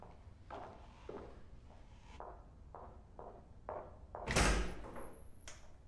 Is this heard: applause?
no